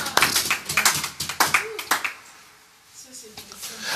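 A church congregation claps in short uneven bursts for a few seconds, then quiets, with a preacher's voice speaking over and after the applause.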